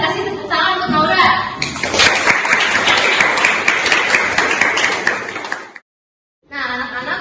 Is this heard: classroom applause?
yes